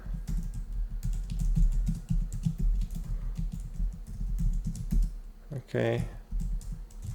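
Typing on a computer keyboard while writing C code, fast irregular key clicks close by with brief pauses, a voice speaking briefly near the end.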